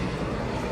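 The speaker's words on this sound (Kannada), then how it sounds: "ಹೆಲಿಕಾಪ್ಟರ್ ನೋಡಿ," A helicopter passes overhead near a rocky seaside promenade, its broad, steady engine and rotor roar filling a short burst with even, continuous loudness and no talk.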